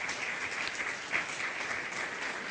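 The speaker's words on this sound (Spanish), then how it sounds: "Démosle un aplauso a nuestro Dios" Steady applause from a church congregation fills the space, a dense even wash of many hands clapping at moderate distance with no break.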